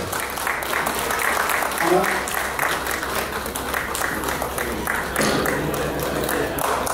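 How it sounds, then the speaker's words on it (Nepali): An audience applauds at a Hong Kong grand premiere of a Gurung culture film, with dense, sustained clapping filling the hall while a voice speaks over it. "तपाईँहरूले पक्कै तालीले सम्मान गरिदिनुहुन्छ।"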